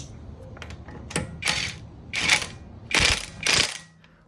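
A TEXUS BULL cordless impact wrench rated at 550 Nm loosens a nut on a passenger car or pickup, giving four loud, separate bursts of rapid hammering with short pauses between them, close to the listener and with no talking.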